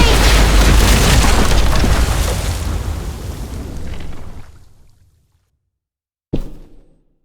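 A bomb explodes in The Walking Dead: The Final Season video game, a loud sustained roaring blast that rumbles and fades to silence, then one sharp burst of debris near the end.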